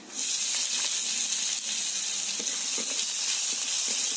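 Chopped onions, black cumin and a bay leaf sizzle loudly in hot oil, a steady close hiss of frying that holds from start to finish with faint stirring clicks underneath.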